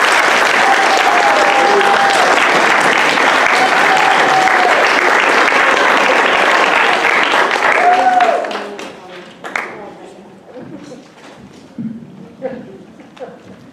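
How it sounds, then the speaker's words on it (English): Applause for student performers at a performance night, loud sustained crowd clapping with scattered cheers that fades after about eight seconds, giving way to a few remaining claps and murmured voices. "Can we please give another round of applause to our performers tonight?"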